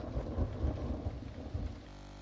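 Rumbling thunder rolls over a steady wash of rain, loud and close, then it cuts off abruptly.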